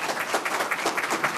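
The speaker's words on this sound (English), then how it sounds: "let's give all of our candidates a round of applause" Crowd applause at a Park Forest municipal candidates' forum: a short, dense burst of many people clapping together, fairly soft and uninterrupted.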